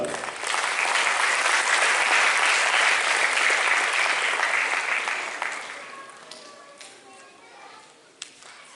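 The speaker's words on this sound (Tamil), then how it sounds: "எங்கே உங்கள் உற்சாக கரகோஷம்?" Loud, dense applause erupts from the crowd at a college first-anniversary certificate and awarding ceremony, then thins after about five seconds into scattered claps with a few sharp isolated taps and faint voices.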